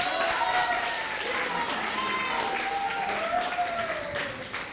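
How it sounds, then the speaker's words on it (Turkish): An audience applauds at a children's poetry recital show, a dense, continuous patter of clapping that holds steady for several seconds before easing slightly at the end. "Alkış."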